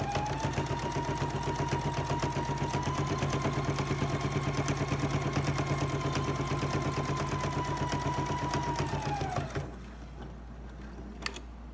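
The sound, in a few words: sewing machine stitching a decorative stitch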